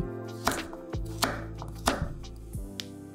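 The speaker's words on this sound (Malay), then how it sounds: "Kupas kulit, basuh bersih-bersih. Dan potong kasar supaya senanglah nak kisar nanti." Freshly peeled turmeric is chopped roughly with a knife on a board, producing about six sharp, evenly spaced thuds close up with no talking.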